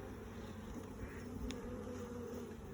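Honey bees buzz around an open hive during an inspection, a soft, steady drone close by with one bee briefly passing nearer midway, no voices.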